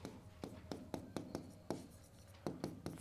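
Marker or chalk on a classroom board during a biology lesson, a run of sharp close taps and short strokes in an irregular rhythm, with no talking over them.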